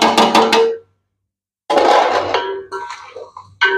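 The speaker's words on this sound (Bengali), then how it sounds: "দেখেন এই যে সবগুলা মশলা দিয়ে দিচ্ছি।" Whole garam masala spices and a piece of ginger tipped into a cooking pot, a loud close clatter and sizzle in two bursts split by a short silence, then softer scraping and clinks.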